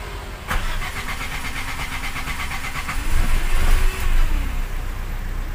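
A gas-fueled (BBG) engine cranks and catches with no throttle applied, a steady starter whir and mechanical rattle rising into a louder burst of running engine near the end, close and continuous.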